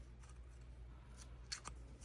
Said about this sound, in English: that's too big, so let me trim it down.